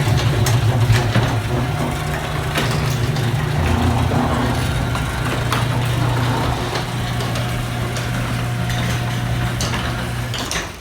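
A garage door opener motor lowers a residential garage door fitted with brand-new springs, giving a steady, close mechanical hum with light rattling that runs unbroken for about ten seconds with no talking.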